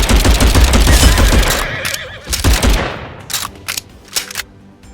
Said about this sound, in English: Position 2 cavalry approaching